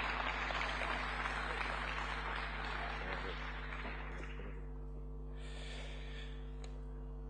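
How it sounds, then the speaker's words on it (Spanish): An audience at an agricultural association's anniversary celebration applauds an award recipient, a broad, steady patter of many hands that thins out and fades over several seconds, heard at a distance over a low hum. "Fuerte el aplauso para Telmo Trocero,"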